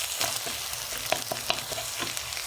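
Two garlic cloves fry in a hot pan with a crackling sizzle close by, broken by quick utensil taps and stirring scrapes, with no one speaking.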